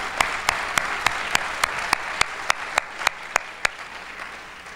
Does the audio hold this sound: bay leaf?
no